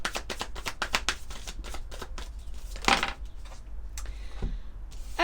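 Major arcana cards of an oracle deck being shuffled by hand, a fast run of crisp riffling flicks that slows into a few scattered taps and one louder burst of card rustle near the end.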